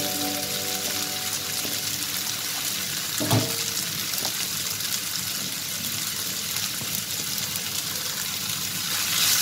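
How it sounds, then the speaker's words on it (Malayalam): Ridge gourd, grated coconut and cumin get stirred in a hot pan, giving a steady soft sizzle with a few scraping knocks of the spoon near the start, close and continuous. "ഇത് ശരിക്കും നന്നായി ഇളക്കാം"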